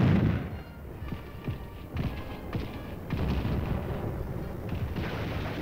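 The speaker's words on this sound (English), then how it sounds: "A cavernous gun whirls an explosive shell through the skies. A machine gun blasts away." Distant wartime artillery fire and explosive shell bursts rumble in low, irregular booms mixed with rapid crackling machine-gun fire, forming a dense, continuous battlefield din.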